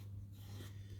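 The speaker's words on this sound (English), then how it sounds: "Once it's gone off, it's all gone hard. You can sand it down" Hardened decorators filler being sanded on a scratch-built rally diorama, a short, quiet scratchy rasp of abrasive over the surface, close up over a low steady hum.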